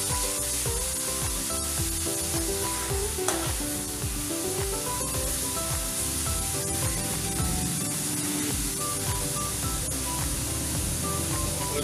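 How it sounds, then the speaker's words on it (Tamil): Grated carrot sautéing in a pan for carrot halwa makes a continuous, even sizzle with the scrape and rub of stirring throughout, and no voices. "இது அப்படி கொஞ்ச நேரம் வதக்க ஆரம்பிச்சோம்னா கேரட்டோட கலர் வந்து மாறும்"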